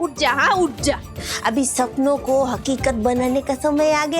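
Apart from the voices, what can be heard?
No everyday noise stands out behind the speech.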